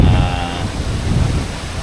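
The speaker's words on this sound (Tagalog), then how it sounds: "Ang lakas ng hangin." Loud wind rumbles and buffets against the microphone in a constant low roar, with a brief faint tonal whine at the start.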